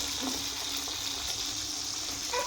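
Mango-flavoured luchi dropped into oil that has been heating for a long while, giving a steady, dense hiss and crackle of deep frying that holds evenly and close throughout, with no talk.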